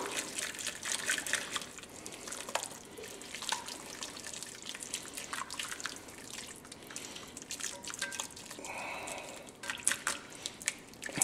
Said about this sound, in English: to this we want to whisk in some flour